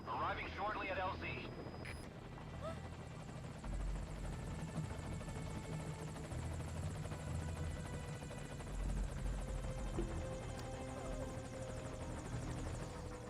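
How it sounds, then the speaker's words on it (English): A helicopter in the Metal Gear Solid 5 video game approaches a landing zone, its steady rotor drone and engine rumble continuous and loud throughout, with a brief game voice near the start. "This is Morpho, arriving shortly at LZ."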